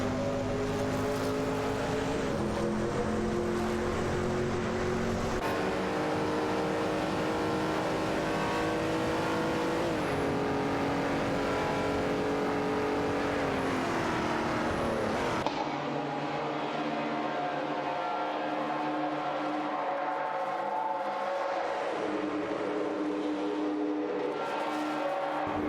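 Race car engines in a video game race roar continuously with shifting pitch as cars accelerate and change gears, loud and steady throughout, with a sudden drop in tone partway through and no talk.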